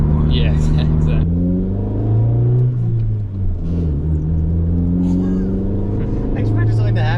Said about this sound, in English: I expected something to happen when I hit the throttle.